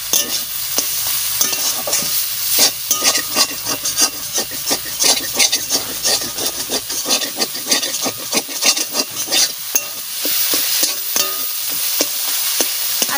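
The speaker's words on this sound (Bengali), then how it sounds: "আর অল্প একটু ভাজা করে আমি নামাই দেবো।" Leafy greens (shak) stir-fried in a pan, with a steady run of scraping, rubbing stir strokes and a soft sizzle close by, alone without any talk.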